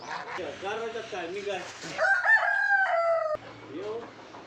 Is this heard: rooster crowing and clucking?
yes